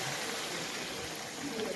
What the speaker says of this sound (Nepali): यसरी पानी हालेको छ।